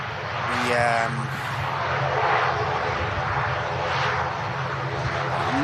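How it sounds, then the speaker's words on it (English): An Air France airliner takes off at Manchester Airport, its engines roaring as a steady, broad rumble from a distance while someone talks over it throughout. "Air France to take off."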